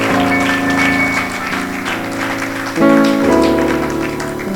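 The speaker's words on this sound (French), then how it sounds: "Des grandes acclamations, des grandes acclamations." A congregation at a Sunday church service claps along under loud sustained keyboard music, the handclaps rising in a quick swell partway through.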